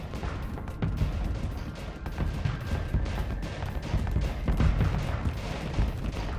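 Spaceship weapons firing in a Starsector AI tournament battle: a dense, continuous barrage of booming cannon blasts and crackling impacts, loud and relentless with no pause.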